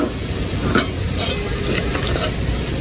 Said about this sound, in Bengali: এইখানে মশলাটা ভালোভাবে কষাবো